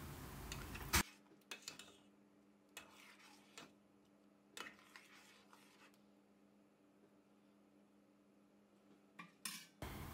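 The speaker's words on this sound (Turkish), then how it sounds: "Ara sıra karıştıralım." Plums simmering in a pot over medium to high heat for marmalade are stirred now and then, giving quiet scattered clinks and scrapes of a utensil against the pot, with a few sharper knocks and a low steady hum underneath.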